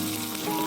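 Pork intestine and pork pieces fry in a pan with a brief, dense, even sizzle at close range and no talking.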